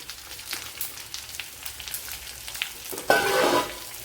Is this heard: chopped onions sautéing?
yes